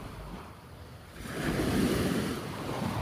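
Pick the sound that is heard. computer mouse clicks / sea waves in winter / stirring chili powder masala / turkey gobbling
sea waves in winter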